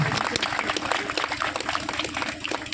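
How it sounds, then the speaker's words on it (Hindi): A crowd claps steadily and continuously, dense applause filling the room without pause. "कृपया आप लोग तालियां लगातार देते रहिए"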